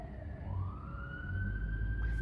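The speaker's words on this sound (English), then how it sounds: "There's an ambulance." An ambulance siren wails outside an apartment with thin windows, a steady rising tone heard through the glass over low traffic rumble, moderately loud and sustained without talk.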